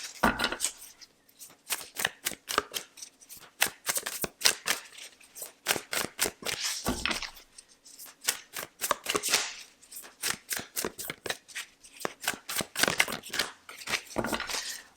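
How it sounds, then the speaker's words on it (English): Tarot cards being shuffled for a reading, a steady stream of quick riffling and snapping bursts with short pauses, close and crisp, with no talk over it. "One more shuffle."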